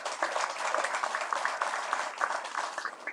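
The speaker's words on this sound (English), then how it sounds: "worth another round of applause," A round of applause at a hall of fame induction ceremony for sports officials, a continuous moderate wash of many hands clapping from the audience, fairly even throughout with no talking.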